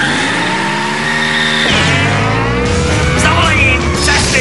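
Cartoon car in a Czech-dubbed animated show, engine tone sweeping upward as it accelerates, with squealing tires and a busy, loud mix of rising harmonic whines around it.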